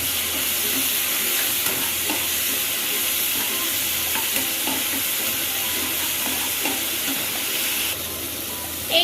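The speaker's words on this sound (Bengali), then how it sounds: "এবার সামান্য জল দিয়ে মিক্স করে নেবো, মশলাগুলোকে ভালো করে কষিয়ে নেবো।" Spice paste with a little water being sautéed in a pan for an egg and cauliflower curry, a steady close sizzle and hiss with faint scraping of a spoon throughout, no voices.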